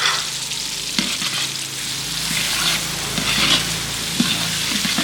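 Ground red chili being stir-fried in a pan while a Betong-style chicken soup is prepared, giving a steady close sizzle and crackle of hot oil broken by scraping and stirring knocks from the utensil.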